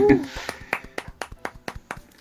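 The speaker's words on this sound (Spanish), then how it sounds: "Un aplauso, Titi." A small group applauding in a podcast studio: after a short voice at the start, a run of crisp, evenly spaced claps follows, close and moderately loud, thinning out toward the end.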